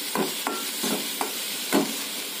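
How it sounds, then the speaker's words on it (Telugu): Ginger garlic paste fries in a pan with a steady close sizzle, broken by a few soft scraping strokes of stirring. "నెక్స్ట్ మనం ఇందులో అల్లం వెల్లుల్లి పేస్ట్ ఇది మొత్తం ఫ్రై చేసుకోవాలి."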